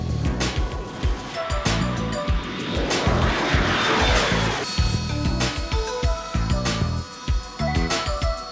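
A single-seat Marine fighter aircraft flying, its jet engine roaring loudly with a swelling pass in the middle, overlaid by sharp percussive hits and background music.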